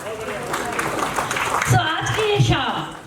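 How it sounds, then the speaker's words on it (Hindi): Applause at a children's educational awards ceremony, steady clapping from the audience with voices mixed in over it. "जोरदार तालियां"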